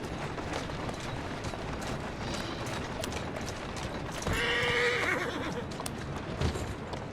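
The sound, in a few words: horse neighing and hooves in video game Assassin's Creed Syndicate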